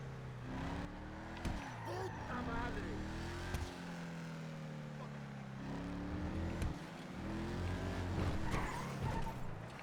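A car in the video game Grand Theft Auto Online revs and shifts through gears, its engine tone rising and falling in repeated sweeps with brief tire noise, while someone talks over it.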